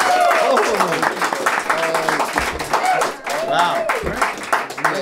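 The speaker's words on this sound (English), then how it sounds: "Great applause." Loud, close applause from a small audience at a comic book discussion show, with some voices and cheers mixed into the steady clapping.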